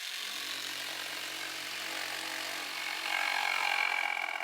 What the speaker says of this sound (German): Mit der Stichsäge schneidet die Schreinerin entlang der markierten Linie.